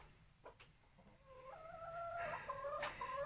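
Chicken clucking close by while being fed a tonic medicine, several short rising calls in quick succession, fairly faint over a quiet background.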